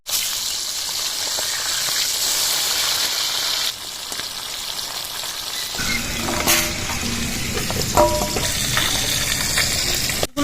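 Pieces of bata fish fry in hot oil in a pan, giving a steady, fairly loud sizzle throughout with brief stirring and clinking sounds partway through, and no voices.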